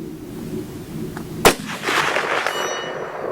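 A Romanian M56 SKS rifle fired at a steel target 240 yards away gives one sharp, loud shot partway through, followed by a lingering outdoor echo over quiet background noise.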